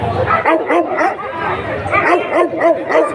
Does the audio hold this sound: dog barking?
yes